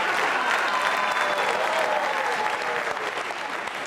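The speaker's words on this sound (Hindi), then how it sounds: "तालियां जोरों से बजाइए उनके लिए" An audience at a Jain Social Group quiz show event claps steadily for a guest of honour, a dense, sustained round of applause that fades slightly toward the end.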